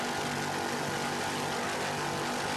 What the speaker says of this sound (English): The engine sound real fine.